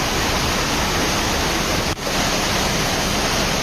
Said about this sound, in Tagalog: makikita ang lakas ng agos ng tubig